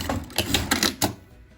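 A sewing machine stitches a zipper lining in short, rhythmic bursts, several clattering runs of the needle close by, then a quiet stop near the end.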